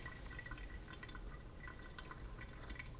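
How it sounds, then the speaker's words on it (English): Coffee maker steadily dripping brewed coffee, a faint continuous trickle with soft drips under low background hiss, no talking. "Let me get this started perking or dripping again."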